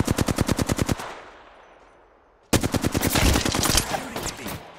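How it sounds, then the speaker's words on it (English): Gunfire in the battle royale game Apex Legends: a rapid automatic burst of about ten loud shots, a second of fading echo and near-quiet, then another dense, sustained volley of close, loud shots. "Shooting at me."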